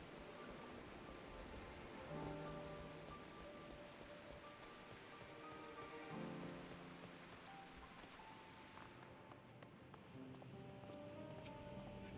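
Steady, soft rain hiss with faint droplet patter in the video game Final Fantasy XIV, very quiet and continuous, with some soft tonal music underneath.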